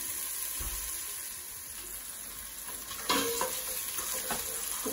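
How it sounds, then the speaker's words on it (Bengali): Onions hit hot oil in a pan, giving a soft continuous sizzle with some stirring and a louder burst of frying partway through. "এখন পেঁয়াজ পেঁয়াজ দিয়ে দিব তেল গরম হয়ে গেছে"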